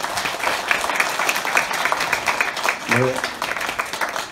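Audience applause welcomes an opera singer at a seed library association's general meeting and seed-sharing event, a steady crowd clapping throughout with a voice speaking briefly over it.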